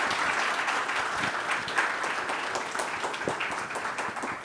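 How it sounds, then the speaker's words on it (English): Conference audience at a marketing event applauding a lightning-talk speaker, a continuous roomful of clapping with a few sharper claps standing out, holding steady throughout. "Please give a big round of applause to Varun."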